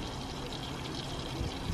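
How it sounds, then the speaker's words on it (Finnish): Water pouring steadily into a pan of pork chops on an outdoor trip, a continuous soft rushing splash with a slight thump at the end. "mä laitan vähän vettä"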